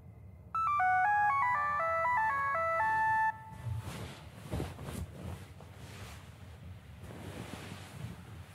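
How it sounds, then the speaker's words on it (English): A melodic phone ringtone plays loud and clear for about three seconds, then cuts off, leaving rushing wind-like ambience. "Is that my phone?"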